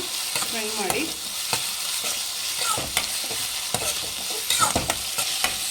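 Chili paste is stirred and fried in a pan for Gobi Manchurian, with a steady sizzle throughout and repeated scraping strokes of the spoon against the pan, close and even.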